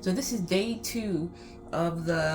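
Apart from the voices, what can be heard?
None of the usual background noises is heard.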